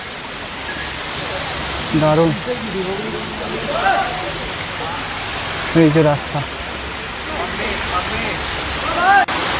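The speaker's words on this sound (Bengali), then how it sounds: "কেদারনাথ যাওয়ার পথে এরকম রাস্তায় রাস্তায় সুন্দর ওয়াটারফলস পাচ্ছে" A waterfall rushes beside a mountain road on the trek to Kedarnath, a loud steady roar of falling water under a man's brief spoken remarks.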